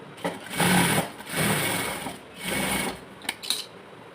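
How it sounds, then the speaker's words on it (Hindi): A sewing machine stitches palazzo pants fabric in three loud, close bursts of rapid mechanical whirring, separated by short pauses and followed by a few clicks, with no voices. "यहाँ से ऐसे एक सिलाई हम इसके ऊपर से लगा देंगे।"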